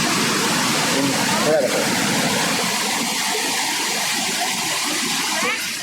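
Iguazu Falls at Garganta del Diablo, a massive waterfall roaring in a dense, continuous wash of rushing water, loud and steady, while someone briefly speaks over it.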